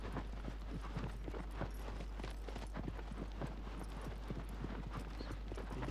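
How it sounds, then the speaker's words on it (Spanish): Steady clip-clop of horse hooves at a trot in Shadow of the Colossus on PS4, a continuous, even rhythm of close, moderately loud footfalls with no speech. "Este caballo viene de bonanza"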